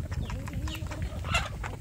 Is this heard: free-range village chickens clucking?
yes